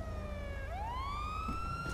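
Police car siren in GTA 5 Online, a loud continuous wail that dips and then sweeps upward again, steady and close with no talk.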